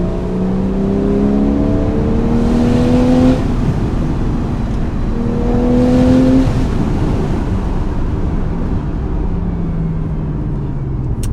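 A Porsche 911 Carrera S (991.1) in standard mode, without the sports exhaust, pulls through gears while driving, its engine note rising in pitch twice with shifts between, loud and close from inside the car.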